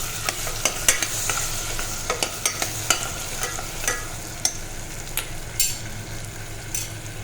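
Spices, coriander-cumin powder and red chilli, being stirred in a hot pan with a steady sizzle, a spoon scraping and tapping in irregular close strokes with no voices.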